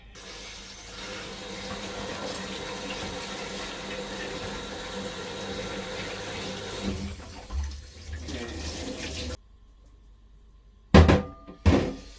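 Seafood for pilaf rinsed under a running kitchen tap, a steady loud hiss of flowing water for about nine seconds before it stops, then a couple of sharp clunks close by.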